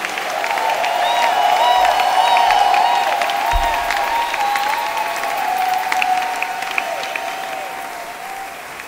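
A church congregation at a worship service claps and cheers in praise, with sustained, loud applause and raised voices that build and then slowly taper off.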